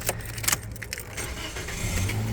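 Spare keys for a 2018 Toyota Yaris Ascent jangle in a few quick metallic bursts near the start, close by, followed by a faint low engine hum.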